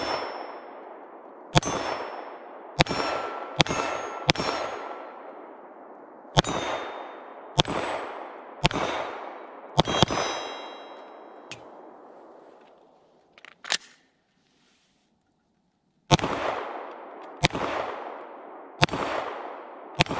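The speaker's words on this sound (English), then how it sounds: "let's take this bad boy outside and ring a little steel" A Steyr M9 A2 9mm pistol fired outdoors at steel targets, roughly a dozen sharp shots each followed by a bright ringing clang that decays, in irregular clusters with a pause partway through.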